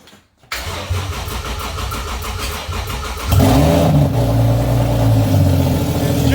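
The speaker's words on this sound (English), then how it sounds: "we're officially going to give it a first crank" A car engine firing on its first start after a new fuel pump and injectors are fitted: a brief starter crank catches into a loud, rough running engine that settles into a steady, slightly uneven idle.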